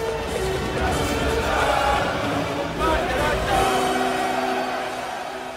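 Marines cheering and singing along to Wagner in the Apocalypse Now helicopter assault on a Vietnamese village, heard as a loud continuous crowd roar of voices over music, with crashes and a sustained blend of shouting.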